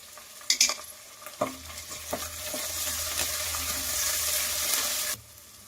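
Onions frying in a pan with ginger garlic paste, close sizzling under a few scraping stirs and clinks of a spoon, building to a steady crackle before cutting off abruptly.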